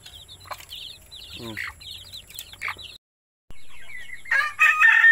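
Native chickens in a coop cluck and chirp close by, with a rooster crowing loudly near the end; birdsong and a brief pause break up the scene, and no talk is heard.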